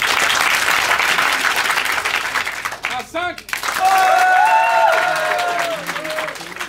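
A live crowd at an improv theatre festival in Paris applauds and cheers to vote on a scene, a dense burst of clapping that breaks briefly and then resumes with shouts and whoops layered over it, while a host speaks.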